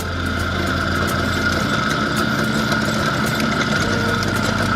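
An IZh Planeta 5 motorcycle engine idles steadily nearby, a constant low rumble with a faint buzzing tone that stays the same throughout.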